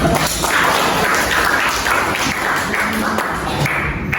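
A class of students in an Indonesian history lesson gives a round of applause, with a steady wash of clapping in a room that stays continuous and fairly loud throughout.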